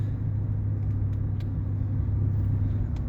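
A GMC Sierra 2500HD pickup drives in traffic, its engine giving a steady low rumble from inside the cab, with faint ticks and clicks over the drone.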